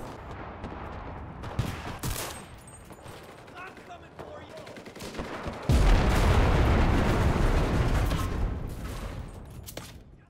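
Gunfire rattles in the Enlisted video game set in a Tunisia campaign, scattered shots and bursts crackling through a noisy battle, swelling into a dense, loud barrage of overlapping fire midway through before easing off.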